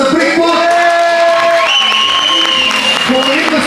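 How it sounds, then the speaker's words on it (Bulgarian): Crowd applause and cheering with whoops, loud and sustained, mixed with music and voices. "аплодисменти за да Брик"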